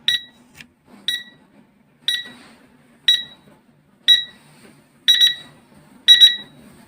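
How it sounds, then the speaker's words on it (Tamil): A budget digital alarm clock beeps in evenly spaced pairs and short bursts, about one per second, loud and close, with faint room noise between beeps. "இந்த பிபிபே வந்து 2 முறையாக அடிக்குது."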